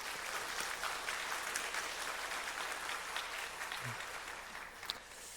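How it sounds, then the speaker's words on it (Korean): Steady, even clapping from a church congregation during a Sunday worship service, continuous from start to finish and moderately distant, applauding in encouragement for a first-time performer, with no voices over it. "격려의 박수는 한번 해줘야죠"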